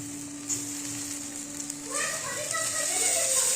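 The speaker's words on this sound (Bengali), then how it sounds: "আর এক পিঠটা এখন ভেজে নিচ্ছি" White brinjal slices sizzle steadily in a pan as the second side fries, with a constant bright hiss and some faint tonal background sounds joining midway.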